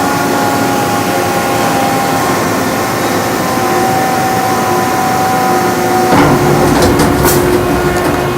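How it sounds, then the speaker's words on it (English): Air knives blowing in the tank 5 dry cycle of a six-stage industrial parts cleaning system, a loud steady broadband rush of air that holds throughout, with a shift and some added hiss toward the end. "now you can hear those air knives going on in here"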